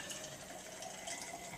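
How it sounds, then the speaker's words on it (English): Tap water running gently into a graduated cylinder at a lab sink, a steady soft hiss and splash that stays even and fairly faint throughout, with no voices. "put it under the faucet, turn it on slow"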